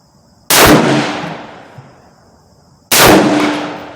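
Two sharp, loud rifle shots from a Savage 110 Tactical at an outdoor target range, each a sudden crack followed by a long decaying echo tail, spaced about two and a half seconds apart with quiet between.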